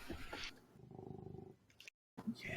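A soft, rumbling purr-like rasp pulses briefly between faint breathy sounds, cut by a short silence. It may be a voice imitating a cat during a tabletop role-playing game.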